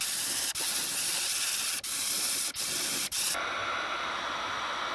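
Spray paint hisses onto wood in a thick white coat, four close continuous bursts separated by brief pauses, the last trailing off into a softer hiss.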